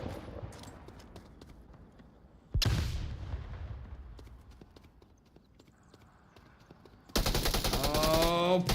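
Gunfire in the VR shooter Onward, with bursts of automatic fire and single shots sounding over a busy background of movement and faint voices, including a long, loud sustained volley near the end.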